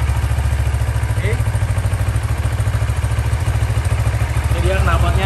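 A Kawasaki ER-6F motorcycle with its stock exhaust idles close by, a loud, steady low throb of regular firing pulses. Faint voice sounds briefly rise in the background.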